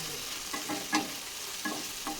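Chopped capsicum and vegetables sauté in a pan for capsicum rice, with a steady soft sizzle and a few gentle stirring scrapes, close and moderately quiet.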